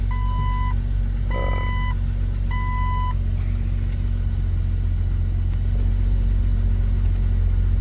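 A Jeep TJ heater blower motor runs on high fan speed with a steady loud whooshing hum and low rumble throughout, while a series of short electronic beeps sound early on.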